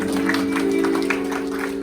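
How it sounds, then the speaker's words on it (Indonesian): Applause for the bride and groom at a Christian wedding blessing ceremony, a steady crowd clapping for about two seconds, mixed with sustained tonal sound and some voices. "Beri tepuk meriah untuk kedua mempelai."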